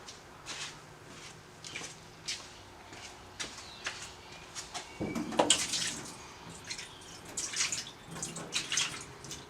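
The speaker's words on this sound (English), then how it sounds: "Or do you think I should rinse this a second time?" Water runs and splashes while a rusty part is rinsed clean, a steady close wash with irregular splashes and drips that swell briefly midway.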